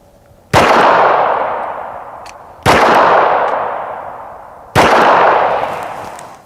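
Three loud .45 ACP gunshots strike AR500 steel body armor about two seconds apart, each a sharp crack with a ringing metallic decay that fades before the next shot.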